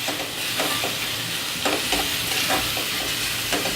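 Onions and spices sautéing in a pot for mutton curry: a loud, steady, dense sizzle runs throughout, with repeated stirring scrapes rising through it at intervals.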